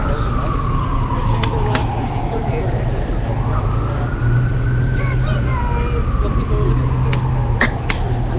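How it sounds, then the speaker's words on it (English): An ambulance siren wails in city street traffic in downtown Los Angeles, its rising and falling tone sweeping steadily over the drone of engines and road noise, moderately distant rather than right alongside. "it's an ambulance"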